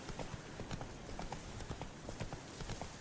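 Roach, the horse in The Witcher 3, trots along with a quick, regular clip-clop of hooves, steady and fairly close, with no voices.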